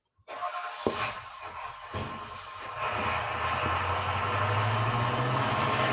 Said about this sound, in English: There goes my Amazon truck.